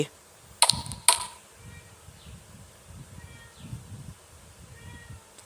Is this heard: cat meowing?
yes